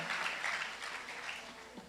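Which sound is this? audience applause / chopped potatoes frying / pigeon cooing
audience applause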